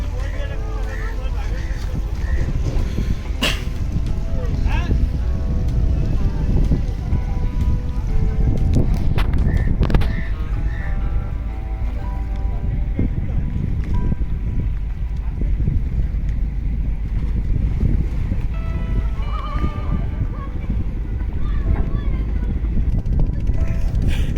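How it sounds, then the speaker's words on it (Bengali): A small boat motors across open sea toward a large blue ship, with a steady engine rumble and wind buffeting the microphone throughout while people talk over it. "আমরা যাব হচ্ছে এই বোটে করে"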